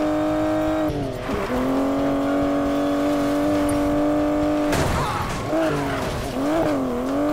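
Cars race in Need for Speed Payback, engines droning at high revs with rising and falling pitch as gears shift, broken by bursts of tire squeal and skidding, loud and continuous.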